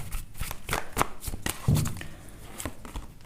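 Tarot cards being shuffled by hand, a close, steady papery riffle with soft slaps and brief pauses, heard alone without talk.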